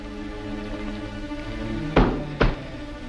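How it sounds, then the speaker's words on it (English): A dropped gun hits the floor in an old Sherlock Holmes film: two close, heavy thuds about half a second apart over a low background hum, with no talk. "Drop that gun."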